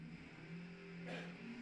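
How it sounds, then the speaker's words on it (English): Jeff Kreider's Wonder Wagon dragster idling and revving at a bracket race, a steady low engine drone with a brief rise partway through, heard faintly from a distance. "dragster Jeff Kreider in the Wonder Wagon"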